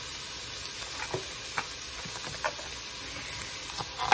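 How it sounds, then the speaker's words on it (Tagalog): Onions frying in a pan give off a steady, soft sizzle, with occasional light stirring clicks and scrapes heard close by and no voices. "Lalagyan na po tayo ng sibuyas. Ayan. Para po malanta na rin yung sibuyas."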